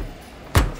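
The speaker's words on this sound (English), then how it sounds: "I also have this microwave door" A microwave door slams shut once with a single close, solid thump after a brief quiet moment.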